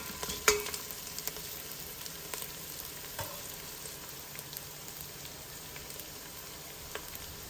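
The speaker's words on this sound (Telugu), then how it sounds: "మన ఉల్లిపాయలు మంచిగా వేగుతున్నాయి కదా ఇందులో పచ్చిమిరపకాయలు వేసేద్దాం" Onions and green chillies frying in a pan at a Hyderabad Old City breakfast kichidi stall, a steady low sizzle with occasional stirring clinks and scrapes, continuous and fairly quiet throughout.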